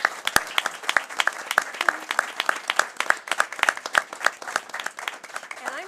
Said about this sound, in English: Let's have a big round of applause for all the candidates.